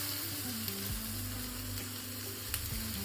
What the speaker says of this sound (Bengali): দেখো এইভাবেই আমি এই আলু পেঁয়াজ এর সাথেই একটু ভাজা ভাজা করে নেবো।